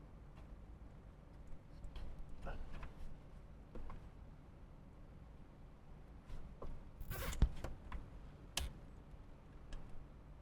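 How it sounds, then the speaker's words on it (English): A zip tie ratchets tight in a quiet vehicle cabin during installation of a dash cam on a 2025 Toyota 4Runner, several quick close clicking zips among soft handling noises. "I'm going to give it a zip tie to connect it."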